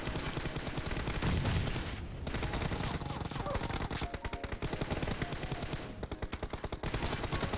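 Dense, continuous automatic gunfire in a PUBG Mobile match, rapid bursts of shots stacking over one another nearly without pause, loud and close throughout.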